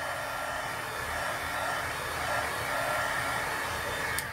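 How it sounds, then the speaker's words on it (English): A heat gun blowing steadily to dry heat embossing on a craft piece, a continuous loud, even whooshing roar of hot air held close without pauses. "I'm going to give this a quick dry with the heat gun."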